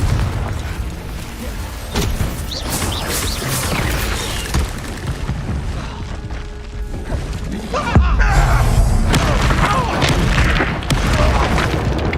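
Booming spell blasts and crashing impacts from the Confringo curse in the Hogwarts Legacy video game, a dense run of loud explosive hits and combat clatter, growing heavier in the second half.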